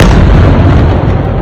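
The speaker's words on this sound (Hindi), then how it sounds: "लगातार ताबड़तोड़ धमाके आपको सुनाई देंगे" Continuous heavy blasts and booms from missile strikes on Israel during an attack from Yemen, loud and dense, rolling one into the next with no pause and no voices.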